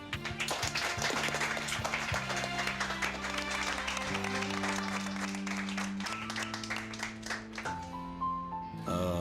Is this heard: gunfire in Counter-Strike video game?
no